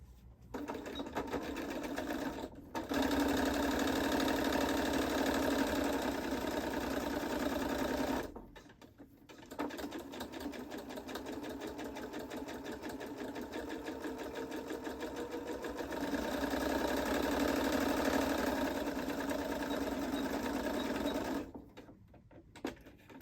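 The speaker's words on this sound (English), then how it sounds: "you're going to stitch all the way around this edge here, leaving a gap at this edge." Sewing machine stitching around the fabric edges of a drawstring make-up bag, running in long steady bursts with two brief pauses, close and loud with no talking.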